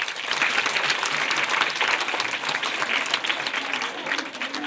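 Schoolchildren at EPP Kennedy Kolotcha in Abobo clapping together in dense, sustained applause that holds steady for several seconds, near and fairly loud, with scattered voices mixed in.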